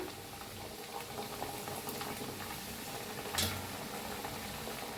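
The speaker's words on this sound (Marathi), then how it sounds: "तेल बी तापलेलं आहे आता तळून दाखवते तुम्हाला किती तेलात बसते तेवढं सोडूया आपण" Pumpkin pieces fried in hot oil give a low, steady bubbling hiss, faint and continuous, with one brief brighter splash of sizzle partway through.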